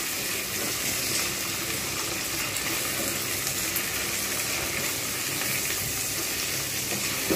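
Chopped ginger and garlic frying in a pan for paneer bhurji give a steady, loud, close sizzle that hisses continuously without pause.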